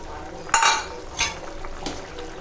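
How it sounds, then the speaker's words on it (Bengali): A vegetable curry of pumpkin, chickpeas, potato and fried pointed gourd simmering in a pan, with a few close clattering stirs and splashes as the fried gourd is added. "দেখো এখন তরকারিটা ফুটছে আর এখন দিয়ে দেব এই যে ভেজে রাখা পটল"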